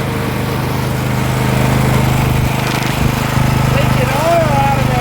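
A small engine runs steadily at the start of a motor break-in in a garage, a constant buzzing drone close by, while a voice talks briefly over it.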